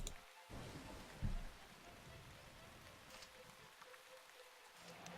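The Sealing Rain spell from the video game Shroud of the Avatar produces a steady, soft rain hiss, with a brief dull thump early on.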